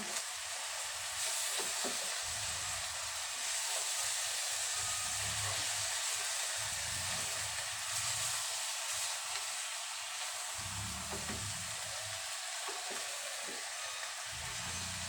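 Vegetables for pork sinigang stirred in a pot over a steady hissing burner, with low rumbling thuds and soft scrapes recurring every few seconds, close and moderately loud.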